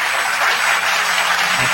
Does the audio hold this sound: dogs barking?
no